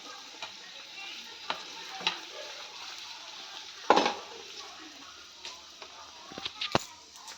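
Dough balls deep-frying for a sweet: a soft, steady sizzle of oil up close, broken by occasional stirring clinks and scrapes against the pan.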